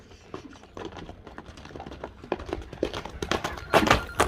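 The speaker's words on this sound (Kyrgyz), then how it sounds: "Ат тез экен жаныбар." A fast racehorse gallops nearby, its hooves striking in quick irregular thuds that grow louder toward the end, with no speech.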